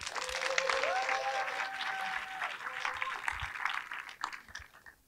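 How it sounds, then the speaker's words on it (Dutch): Festival audience at a Ghent film event applauding two directors, moderate clapping mixed with a few whistles and rising tones, fading out over five seconds. "Dames en heren, jullie applaus voor Gilles Collier en Dries Vos."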